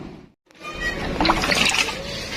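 Water sloshing and trickling as avocado seeds soak in water with Antracol fungicide, a continuous close splashing that starts after a brief silence.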